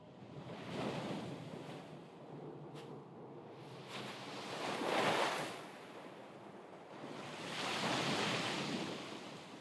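Ocean waves wash in from the game Death Stranding, surging in broad swells that peak around the middle and again near the end, mixed with a steady wind-blown hiss; no one speaks.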